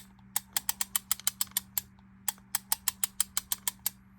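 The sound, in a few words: grinding gear in stiff reel-to-reel tape reel mechanism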